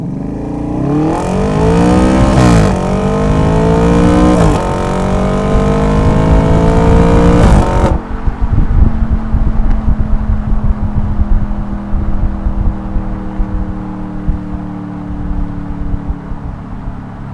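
An Audi RS5 with its mufflers deleted revs hard and loud up through the gears for about eight seconds, with sharp pitch rises at each shift, then settles into a lower rumbling drone as it drives on.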